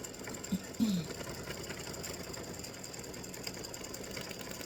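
An embroidery machine sews a satin stitch on free-standing lace acorn earrings, a faint steady mechanical whir with a couple of brief louder clicks near the start, heard alone and quietly.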